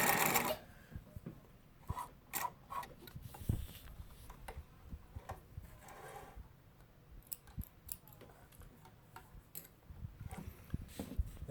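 A Singer 252 sewing machine stitches in reverse, its needle mechanism clattering in quick uneven bursts of ticks and clicks at close range, with short pauses between runs and no talking.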